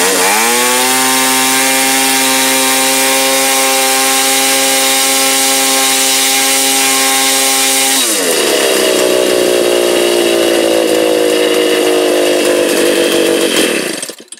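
A Stihl 27 chainsaw engine runs loud and close, holding a steady idle before revving up sharply to a high, buzzing whine that stays strained until cutting off at the end.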